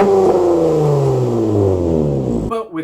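A car engine revs hard and close for a few seconds, its pitch sweeping steadily as it climbs and falls, loud and alone before cutting off abruptly at the end.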